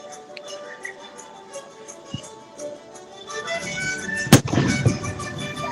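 Fireworks burst during an outdoor symphony show, with scattered pops and one sharp loud blast followed by crackling. Music and voices run underneath.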